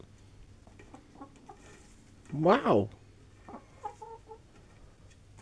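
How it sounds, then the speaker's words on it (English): A chicken gives a short loud burst of squawking clucks in a backyard coop by a ramp, a few softer clucks following, with a person speaking briefly nearby. "Chicken."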